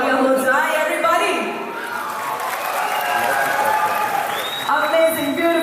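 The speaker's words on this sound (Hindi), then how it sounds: "उससे पहले थोड़ा सा शोर और थोड़ी सी तालियां हो जाए." An event crowd applauds and cheers continuously through the clip under a loud voice speaking over it, with a steady wash of clapping and shouts.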